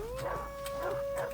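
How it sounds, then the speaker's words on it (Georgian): Dogs in Far Cry 3 give a sustained, wavering howl that holds steady through the moment, with faint yips and barks in the background. "რა გაყეფებ თქვენ ძაღლებო თქვენ?"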